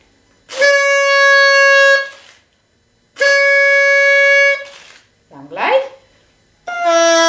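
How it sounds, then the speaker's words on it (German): A bassoon reed blown on its own, producing buzzing, horn-like tones in two long sustained blasts and a short bending squawk, then another blast starting, loud and close. "Und auch dieses Mundstück kann auch allein klingen"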